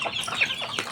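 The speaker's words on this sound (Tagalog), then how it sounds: "Pakainin muna natin ang mga sisiw." Chickens and chicks cluck and peep close by at feeding time in a backyard farm, with a quick burst of overlapping bird calls and no talking.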